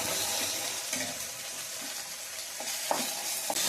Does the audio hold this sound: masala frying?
yes